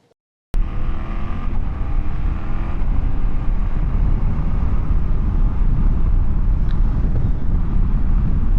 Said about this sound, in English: All right, riding the 800GS on the highway